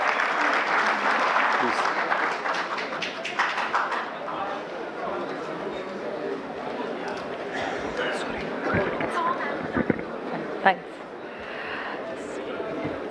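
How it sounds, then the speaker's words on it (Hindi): An indoor audience at an Aadhaar enrollment training session applauds to welcome a speaker, with steady clapping that slowly thins out and a few scattered claps near the end. "एक बार तालियों के साथ उनका स्वागत करेंगे सभी लोग."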